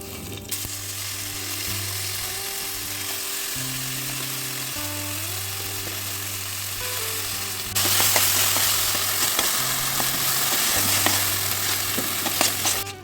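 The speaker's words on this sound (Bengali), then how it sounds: "কচু শাকটা আমার পেস্ট করা হয়ে গেছে, এবার আবার কড়াইতে একটুখানি ভাজা ভাজা করে নেব" Taro leaf paste frying in mustard oil in a wok, a steady close sizzle with scraping stirs and a low background hum, growing louder and more crackly partway through.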